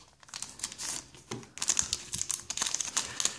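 Crinkling foil wrapper of a Pokémon XY booster pack being torn open and handled, a close, busy run of crackles and rustles with sharper bursts partway through.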